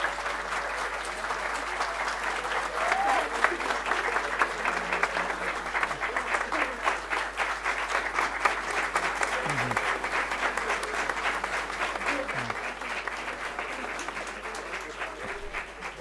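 Sustained applause and cheering from a large audience at a business school convocation ceremony in Navi Mumbai, steady and dense throughout with scattered shouts rising above the clapping.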